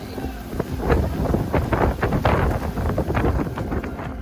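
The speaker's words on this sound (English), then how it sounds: "it's a really windy day, as usual." Strong wind on a coast in Rincón, Puerto Rico buffets the microphone in loud, uneven gusts, a rough low rumble that rises and falls throughout.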